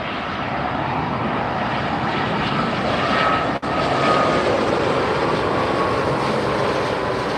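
A Hawaiian Airlines airliner at LAX rumbles close and loud in a sustained engine roar, broken by one very brief dropout midway.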